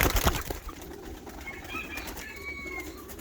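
Hungarian and Japanese breed pigeons coo softly among scattered flaps and rustles, with a sharp burst of wing noise at the start and faint chirps later, no talking.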